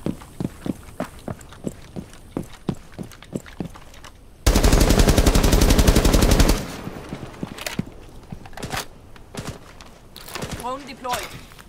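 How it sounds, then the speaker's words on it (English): Rapid bursts of automatic gunfire and single shots in a Rainbow Six Siege team deathmatch on the Fortress map, with a long sustained loud burst in the middle, footsteps between shots and voices talking over it. "they're shooting up here from somewhere"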